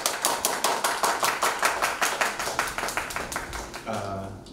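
An audience at a Kaohsiung charity event claps in a steady rhythmic unison to welcome the school principal, even beats repeated for about four seconds before stopping.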